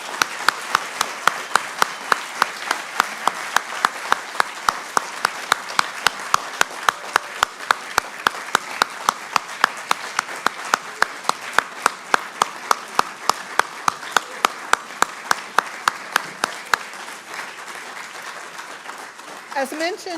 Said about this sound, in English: let's give all of our award winners a round of applause.